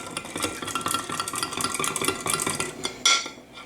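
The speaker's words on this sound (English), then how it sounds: "we're just going to whisk those up a little bit" Eggs being whisked in a bowl: a quick, steady rhythm of light clicking and scraping strokes, close and moderately loud, ending with a sharper clink at the end, with no talking.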